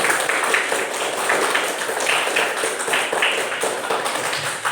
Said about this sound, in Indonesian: tepuk tangan yang keras untuk Bapak satu